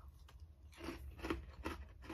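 A crab-shaped Orion Korean biscuit gets chewed up close, with about four quiet, evenly spaced crunches and soft mouth sounds between them.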